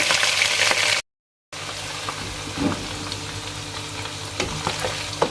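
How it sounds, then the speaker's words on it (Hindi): Steady sizzling of garlic and ginger frying in hot oil, with occasional stirring clicks. A brief moment of total silence interrupts it near the start. "मैंने ये 1 कप से कम थोड़ा सा मैंने ऑयल लिया, जिसमें मैंने ये लहसुन अदरक डाल दिया"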